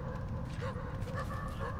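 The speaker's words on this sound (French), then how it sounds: "Oh, il y a des gros chiens." Large dogs bark and whine in a police academy level of The Division video game, a dense, continuous mix of yips and whimpers under other game noise.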